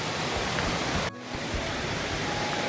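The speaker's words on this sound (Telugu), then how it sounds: "వాటర్ ఫాల్స్కి కొంచెం దగ్గరకు వచ్చాం అనిపిస్తుంది" Steady broadband roar of the Penchalakona waterfall close by, a continuous rushing wash of water with a brief dip partway through.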